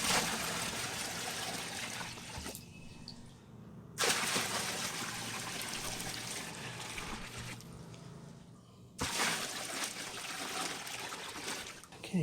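Water pours steadily into a 27-gallon plastic tote reservoir, a loud, close gushing that stops briefly twice and resumes each time.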